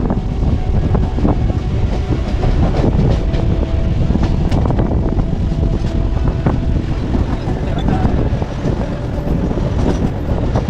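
A busy train rumbles continuously and loudly nearby, with wind buffeting and clattering throughout and no clear break in the noise.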